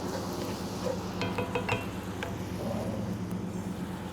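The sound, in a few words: Worcestershire sauce poured into sizzling pan for barbecue shrimp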